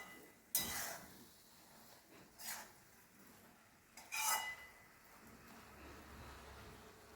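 A spoon stirs a dry moong sprout dish with lemon juice and sugar in a pan, giving a few separate scraping clinks against the metal with quiet pauses between them, with no talking.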